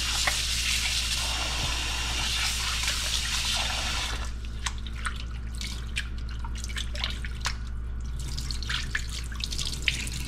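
Tap water runs into a sink while raw chicken is rinsed, a steady broadband rush for about four seconds, then softer trickling and drips in a kitchen.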